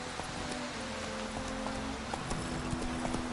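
Clip-clop hoofbeats of the horse Roach trotting in The Witcher 3, a steady rhythmic patter under a constant wash of rain-like ambience, moderately quiet and without speech.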